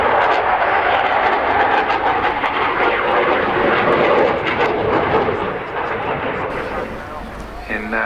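Four RAF Typhoon and French Navy jets in echelon right formation sweep in at high speed to brake and land at the Yeovilton Air Day, a loud steady roar that eases slightly near the end while a commentator speaks over it.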